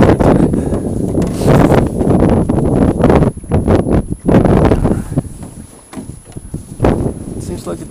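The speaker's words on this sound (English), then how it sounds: "It's super windy out here today." Strong outdoor wind on a fishing outing buffets the microphone with loud, continuous low rumble and roaring gusts, dipping briefly in a few spots.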